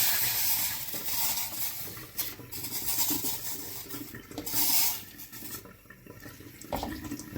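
Sulfur trioxide reacting on contact with water gives an irregular hissing, bubbling fizz in bursts of varying strength, close up with no talk.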